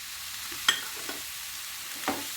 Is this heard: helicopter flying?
no